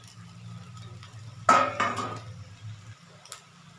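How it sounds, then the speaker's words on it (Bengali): Marinated rice tipped into fried spices in a pan for prawn pulao, a sudden clatter of a spoon against the metal pan followed by a few softer scrapes and a faint clink near the end. "এখন যে চালটা মেখে রেখেছিলাম সেই চালটা আমি মশলার মধ্যে দিয়ে দেব।"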